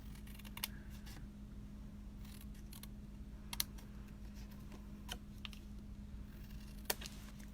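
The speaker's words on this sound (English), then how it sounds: "I'm also going to cut a little triangle out of this corner." Scissors cutting small triangles out of craft card, heard as a handful of sharp, faint snips spaced irregularly over a quiet background hum, with no voices.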